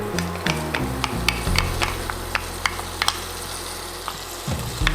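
Strips of bacon frying in olive oil in a pan for a shrimp and bacon rigatoni, giving a steady close sizzle with a low hum, broken by scattered sharp clicks and utensil taps.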